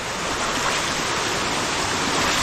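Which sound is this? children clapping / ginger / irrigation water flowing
irrigation water flowing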